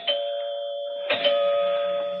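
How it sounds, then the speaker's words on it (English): A doorbell used as a radio drama sound effect, two clear electronic chime tones with the second following about a second after the first, ringing out cleanly and sustaining with no voices present. "Finally, the doorbell rang."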